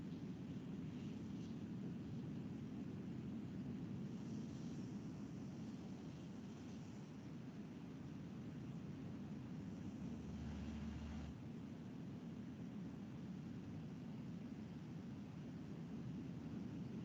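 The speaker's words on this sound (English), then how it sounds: "Now I'll show you one plane which they run on the solar" A solar-powered airplane in flight makes a steady, broadband whooshing drone that holds at an even level from start to finish, with no voices heard.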